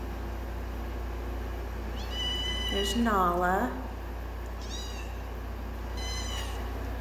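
A tiny young rescue kitten gives several thin, high meows in short bursts, close by, while a person speaks softly over a steady low background hum.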